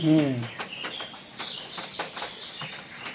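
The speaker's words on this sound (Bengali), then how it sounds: "আজকে কিন্তু শব্দ নাই, আর শুধু পাখির ডাক।" Birds chirp and call repeatedly in the background, fairly faint, with a voice briefly at the start and steady outdoor ambience throughout.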